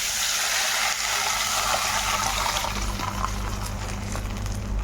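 Dissolved rasam mixture of tomato, curry leaves and coriander poured into a pan, giving a steady running liquid wash that fills the whole stretch without pause.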